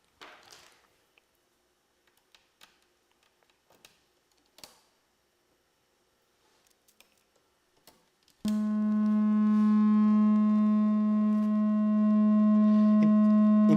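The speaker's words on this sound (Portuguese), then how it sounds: "Então ali nós temos uma onda senoidal." Steady synthesizer sine wave from an oscillator routed through a mixer that adds slight distortion, a loud sustained tone with stacked overtones starting abruptly after several seconds of faint clicks and ticks.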